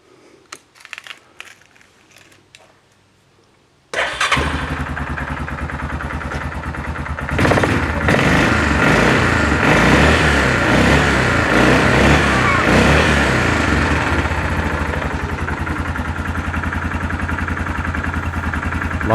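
A 2007 Yamaha Grizzly 450 ATV with a freshly serviced carburetor clicks quietly for a few seconds, then its engine catches and runs loud and steady, with a sharper rise in revs partway through and a continuous mechanical clatter.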